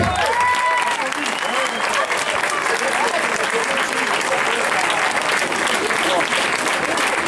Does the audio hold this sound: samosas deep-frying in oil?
no